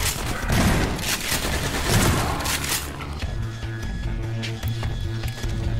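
Shotgun blasts in Half-Life 2: Episode One, a dense run of loud booming shots in the first half giving way to quieter game sounds and a low musical hum.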